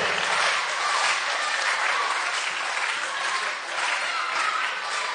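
An audience breaks into sustained, dense applause, a continuous roar of many hands clapping that holds steady for several seconds with a slight dip near the end.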